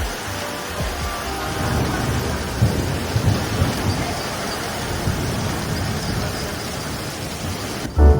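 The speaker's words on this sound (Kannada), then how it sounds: "ಸಿಡಿಲ್ ಕೇಳಿಸ್ಕೊಂಡ್ರಲ್ಲ ಈಗ ತಾನೆ, ಇನ್ನೂ ಒಂದು ಸರಿ ಹೊಡಿಯುತ್ತೆ ನೋಡಿ ಜೋರಿಗೆ." Steady heavy rain pours throughout, with deep rolling thunder rumbling low beneath it; a brief loud knock near the end. Recorded at Shravanabelagola, India.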